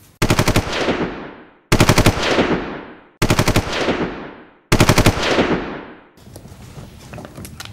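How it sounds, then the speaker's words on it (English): Machine gun fire played as a quiz-show sound effect, four loud close bursts of rapid shots, each ringing out before the next, then a quieter fifth burst. "So machine gun fire, Digby, what did that make you think of?"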